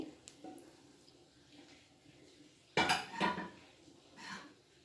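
Palm jaggery is stirred into a mung bean ladoo mixture in a pan, heard as a few faint, scattered spoon scrapes and soft clinks against the metal in an otherwise quiet room.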